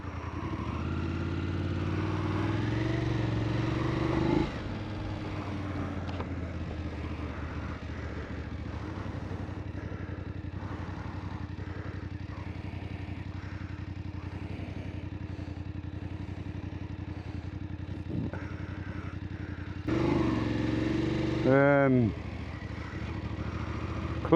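A BMW F850 GS Adventure motorcycle engine runs after a repair, idling at a moderate, even level with a change in tone early on and a brief rising rev near the end.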